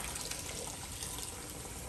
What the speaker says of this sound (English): Rinse the outside of your hose off